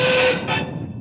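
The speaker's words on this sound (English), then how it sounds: "Do you hear that train pulling away?" A train rumbles with a tonal squeal and mechanical hum, the sound fading quickly as it pulls away.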